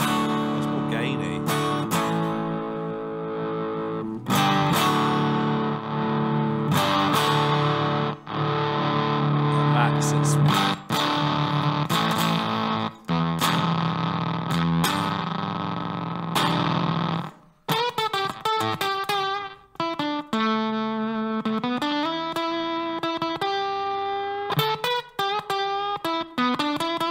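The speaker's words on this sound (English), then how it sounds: "So a super interesting fuzz pedal, that." Electric guitar played through a transparent fuzz pedal, loud and continuous with gritty, saturated chords and sustained notes, shifting to a brighter run of single-note phrases in the second half.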